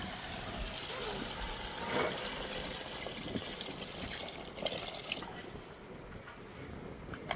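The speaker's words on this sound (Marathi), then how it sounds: "पाणी ओतून घेते" Water is poured into a pressure cooker over raw turmeric rhizomes to soak them in a home kitchen, a steady splashing, gurgling flow up close that thins toward the end.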